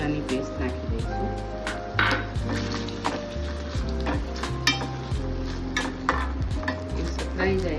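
Ginger-garlic paste and chili paste frying in tomato puree in a pan for egg curry, with sizzling, a utensil stirring and scraping, and occasional clinks against the pot, while someone talks throughout.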